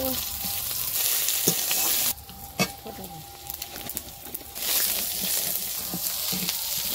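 Onion, chili and garlic sizzling in hot oil, a loud close crackle that briefly drops away mid-way with a few clatters of utensils before the frying roar returns.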